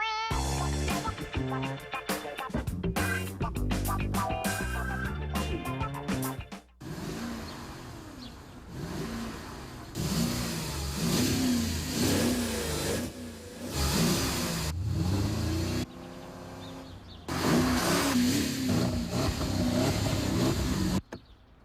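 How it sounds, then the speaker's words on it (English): A 450-horsepower Porsche Cayenne Turbo engine revs loudly in repeated rising and falling surges, following a stretch of music at the start. "The 450 horsepower Porsche Cayenne Turbo."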